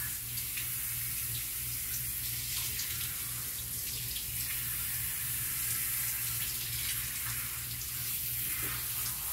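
Steady water runs from an outdoor spigot while a dog is given a bath, a constant close rush of flow lasting throughout with faint intermittent splashes and no talk.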